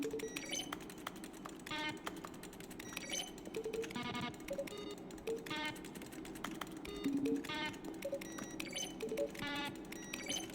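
Button press sounds from The Stanley Parable, each a keyboard keystroke blended with a short synthesized note, repeat one after another in an irregular string of clicks and tones, steady and moderately loud, with no one talking.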